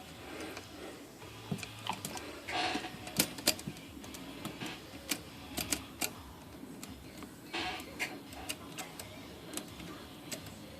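A repaired Swiss Hermes Rocket typewriter clatters as its serviced ribbon mechanism runs, giving a quiet, irregular series of sharp close clicks and taps spread across several seconds.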